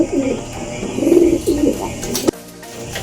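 Young racing pigeons coo in a loft, with several soft, close throaty coos in succession, followed by a sharp click near the end.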